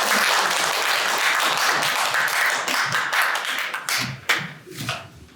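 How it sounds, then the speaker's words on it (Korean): Audience at the launch ceremony of the Hong Beom-do memorial society in Daejeon applauding to welcome the chairman, dense loud clapping from many hands that thins into scattered claps at the end. "우리 우원식 이사장님 큰 박수로 환영해"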